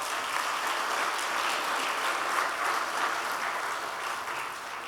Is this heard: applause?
yes